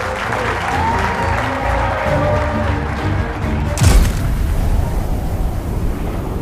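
A crowd applauds the graduating Top Gun Class 0120, a steady wash of clapping with a deep roar or boom swelling up near the middle.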